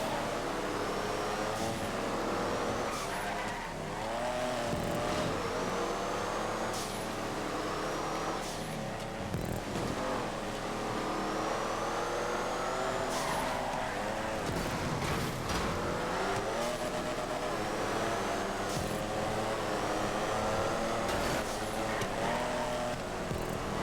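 Z-Type car lapping a race track in GTA 5, engine droning steadily throughout with rising and falling revs, gear shifts and occasional tire squeals, close and continuous.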